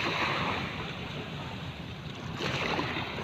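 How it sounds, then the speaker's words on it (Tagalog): Ocean waves wash against the shore under gusting wind noise, the surf swelling louder toward the end, with a faint voice briefly present. "lumalakas yung alon."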